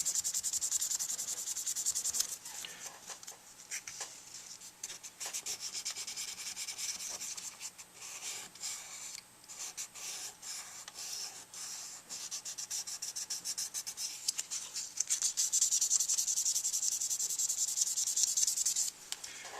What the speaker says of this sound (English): I'm finishing up with the 600 grit.